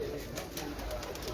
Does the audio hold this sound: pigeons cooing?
yes